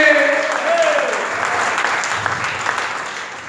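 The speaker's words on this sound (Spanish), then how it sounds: "Una ofrenda de palmas al Señor hoy esta preciosa tarde." Congregation applause offered to the Lord at a church service, a dense, even wash of clapping for several seconds after a preacher's voice fades.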